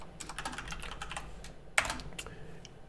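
Rapid clicking of keys on a computer keyboard while typing Python code, a steady close-up patter of light taps with one sharper, louder keystroke midway.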